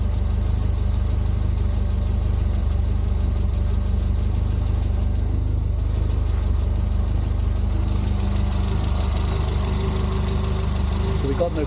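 An old Renault R8 prototype engine fitted with modern ignition idles steadily, a loud, low, even rumble with a faint rhythmic knock running throughout the clip.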